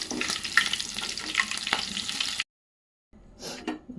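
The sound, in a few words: green chilies and curry leaves frying in oil for lemon rice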